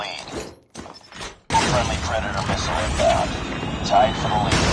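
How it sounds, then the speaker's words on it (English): A Call of Duty Mobile predator missile strike lands as a loud, sustained blast after a brief quieter stretch of gunfire, with crackling debris and game announcer voices over it. "Friendly predator missile inbound."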